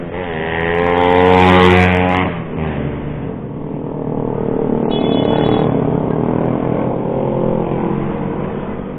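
A Suzuki Raider motorcycle revs loud and close, its engine note climbing and then dropping as it passes, with steady engine drone continuing afterward.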